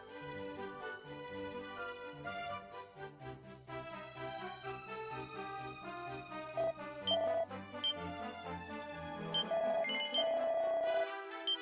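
Electronic telephone ringtone from the video game Dragon Quest II, playing a repeating melodic chime pattern with rhythmic bass notes, steady and fairly loud, with no talk over it.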